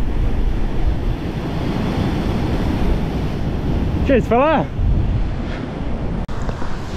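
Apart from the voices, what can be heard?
sea waves coming in on the shore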